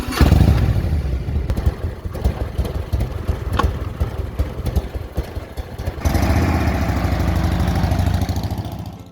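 A motorcycle rides through Tuscany, its engine loud and close with a rough, throbbing mid-range roar and rattling clatter that shifts in tone partway through as the revs change.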